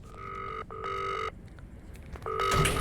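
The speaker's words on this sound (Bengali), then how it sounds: "রিং হচ্ছে।" A telephone rings in the horror video game The Baby in Yellow, two loud electronic ring bursts followed by a pause, then a third ring beginning, with no talking.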